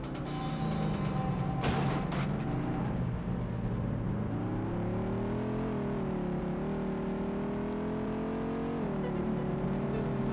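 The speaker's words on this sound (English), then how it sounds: "The engine's just very underwhelming audio" In the PS1 racing game Vanishing Point, a car engine drones steadily and loudly, its pitch rising and dipping gently as the car accelerates, with no talking over it.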